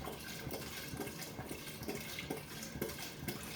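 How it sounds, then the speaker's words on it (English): Vodka or Everclear pours steadily into a container with a continuous splashing gurgle, close by and unbroken, with no voices. "you pour the vodka or Everclear in there"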